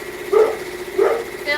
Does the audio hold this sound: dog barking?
yes